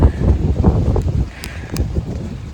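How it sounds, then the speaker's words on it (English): Gusty wind buffets a hunting tree stand high in a Pennsylvania nature reserve, a low, rough rumble of wind across the microphone rising and easing over a couple of seconds, fairly loud and close. "Comes another gust. We're holding on."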